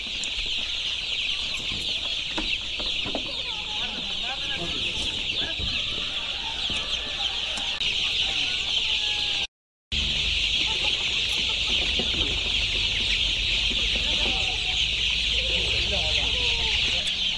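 Chicks and hens cluck and cheep continuously in a poultry mother unit in Muzaffarpur during chick vaccination, a steady dense chorus with occasional rooster crowing and faint voices, broken by a brief gap midway.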